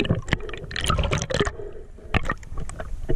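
Water splashing and sloshing as people jump from a boat into the warm sea, a run of close, bursty splashes with gurgles and drips between them, loudest near the start and again toward the end.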